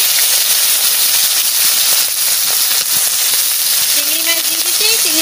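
Prawns dropped into hot mustard oil in a wok, giving a loud, continuous sizzling hiss that fills the clip at close range, with a brief voice surfacing near the end.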